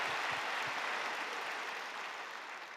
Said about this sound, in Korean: Let's give Dr. Lee a big hand.